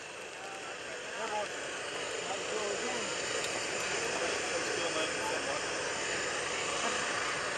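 The AirMed 1 airplane flies at the 2013 Greenwood Lake airshow, a steady sustained engine drone at middle distance that holds for several seconds, with crowd and public-address chatter in the background.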